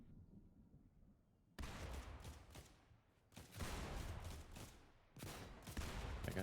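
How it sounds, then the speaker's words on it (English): Bursts of Fortnite gunfire crackle in a Battle Royale match, a dense, steady rattle of shots that breaks off and picks up again in three loud volleys. "we got some shooting going on over here"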